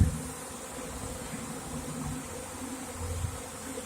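A honey bee swarm enters a modified Warre bait hive outdoors, a continuous soft buzzing hum of many bees heard fairly close and steady throughout.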